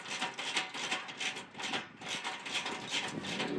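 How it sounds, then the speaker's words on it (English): Ratchet tightening the rear hinge bolts on a Jeep JLU four-door door, a quiet, close series of rhythmic clicking bursts repeating steadily, no talking. "that's when you want to tighten up these 4 rear bolts on the hinges"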